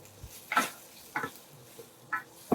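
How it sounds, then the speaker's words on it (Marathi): Okra with kokum sautéing in hot oil, heard as a soft sizzle broken by four or five brief stirring scrapes at an uneven pace, close by with no talking. "थोडी 1-2-3 मिनिटं व्यवस्थित तेलावर परतून काढायची"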